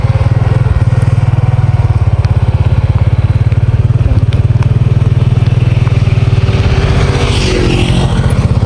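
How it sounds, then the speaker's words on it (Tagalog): A motorcycle rides steadily with a low, continuous engine drone and rumble, close and loud throughout, with light rattling on top and no talk. "Motor lang po yung service natin ngayon."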